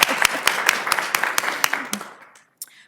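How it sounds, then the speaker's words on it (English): Applause from an audience at a women's leadership event, a burst of clapping with distinct individual claps standing out that thins and fades over about two seconds, followed by near silence and a last stray clap. "I think that deserves a round of applause."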